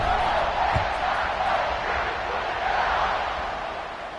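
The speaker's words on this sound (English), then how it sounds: "this crowd is feeling themselves after that last drive" Dense roar of a large football stadium crowd cheering as the kickoff unit lines up after a touchdown drive, loud and sustained with scattered shouts, fading slightly toward the end.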